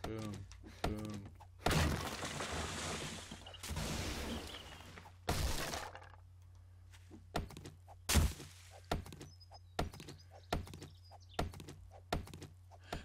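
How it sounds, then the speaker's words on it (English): Small trees being broken down in 7 Days to Die, heard as a string of hard thunks and crunching breaks, some with longer noisy crashes, with a voice talking between the hits. "I like breaking down the small trees."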